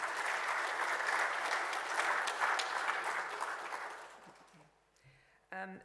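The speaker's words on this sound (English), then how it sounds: "Maybe we can give them a special round of applause." An audience at a university inaugural lecture applauds the administrative staff, sustained clapping that fades away near the end before a brief sound cuts in.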